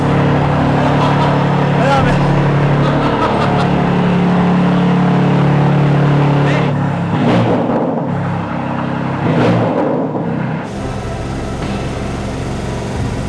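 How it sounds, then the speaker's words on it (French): BMW M2 engine idling steadily just after start-up, a low continuous rumble filling the clip with people talking over it. "Je te laisse la démarrer et mettre le bouton M2."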